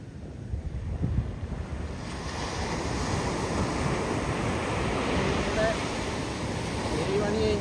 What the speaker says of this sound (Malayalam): ഇന്ന് കടൽ ഭയങ്കര കലിപ്പാണ് അല്ലേ